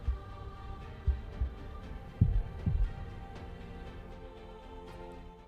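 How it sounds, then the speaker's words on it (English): Heartbeat in the video game Love and Deepspace: several low, soft thumps in an irregular pulse, set over a steady droning musical hum with no speech. "A long time passes, and the first heartbeat emerges."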